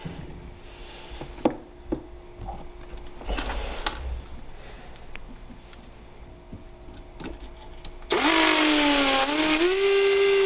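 After scattered clicks and handling noises, a power drill with an 11/64 bit whines loudly for a couple of seconds, its pitch dropping as the bit bites into material.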